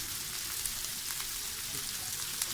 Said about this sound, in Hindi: प्याज हमने इसमें सौटे करनी है, यानी कि प्याज को अच्छी तरह हमने फ्राई कर लेना है